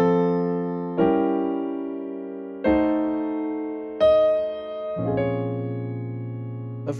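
Piano passing-chord progression built on a diminished seventh chord, played as five separate sustained chords struck about a second apart, each ringing clearly and fading before the next, with no voices.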